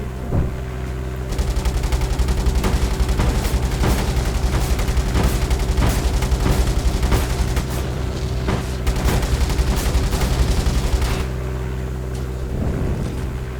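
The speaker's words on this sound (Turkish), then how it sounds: "Oraya roket atmam lazım." Rapid gunfire and heavy blasts from rocket fire and explosions in the War Tycoon video game, a loud, dense, continuous barrage of repeated bangs lasting most of the stretch before thinning out near the end.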